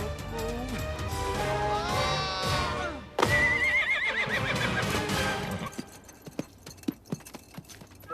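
A horse neighs loudly with long whinnies, followed by clip-clop hoof steps on a hard surface, all close and clear with no talking.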